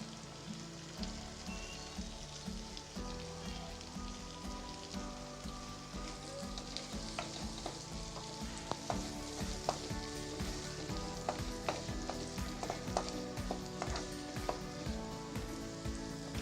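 Onions fry in a pan with a little butter and oil, giving a steady crackling sizzle that grows busier, with occasional clicks of a utensil and no voices.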